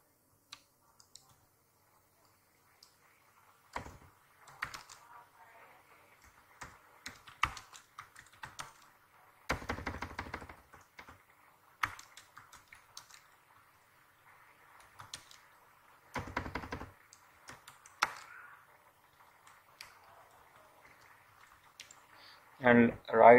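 Typing on a computer keyboard in scattered bursts of key clicks separated by quiet pauses, while setting up a Facebook Instant Games app listing, fairly close and moderately soft, with brief talk near the end.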